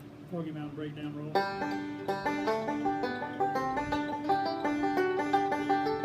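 Banjo playing a roll, opening with a few slower plucked notes before launching into a fast, driving run of bright picked notes in a steady repeating pattern, close and solo.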